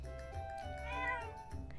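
A cat meows in Zelda: Echoes of Wisdom, one drawn-out, rising-and-falling call at moderate loudness over steady game music, with no talk.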